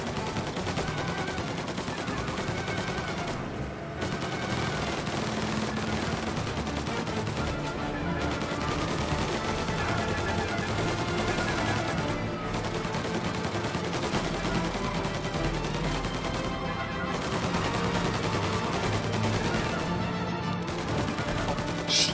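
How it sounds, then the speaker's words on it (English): Gunfire in the video game Mafia, sustained and loud across the whole stretch, with dense bursts layered over game music and action noise, no clear gaps between volleys. "Just shoot forward, yes, Morello. Just kill him"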